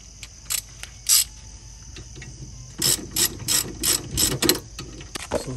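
A hand ratchet clicks close by as it tightens brake caliper bolts on a Honda CR-V, a few separate bursts of clicking followed by a quick run of repeated ratcheting strokes.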